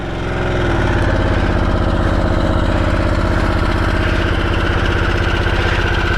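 A 2021 Harley-Davidson Sportster S engine starts and settles into a steady, fairly smooth idle, close and continuous, with a buzzy, lawnmower-like tone rather than a deep slow rumble.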